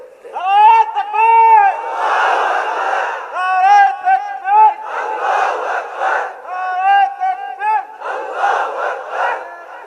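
A large crowd roars a takbir slogan in call and response. A single voice leads each line and the massed shout answers, repeating several times, loud and close.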